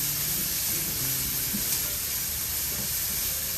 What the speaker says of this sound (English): They're basically just sauteing in the sausage grease